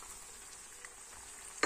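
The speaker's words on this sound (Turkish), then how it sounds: "Bir kaşık salçamızı ilave ediyoruz. Ve kıydığımız domatesleri de içerisine koyuyoruz." Onions, tomato paste and chopped tomatoes cook in a pan for a beef liver dish, a faint, steady sizzle that ends in a brief sharp clatter, no voices.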